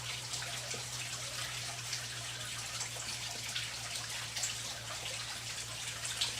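Water runs in a continuous splashing hiss, like a tap or filling basin, with a low steady hum beneath it and no speech.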